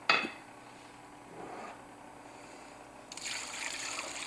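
Liquid poured over food in a home kitchen: a faint trickle and dribble with a light clink of dishware at the start, then a brief splashy pour and a steadier stream near the end.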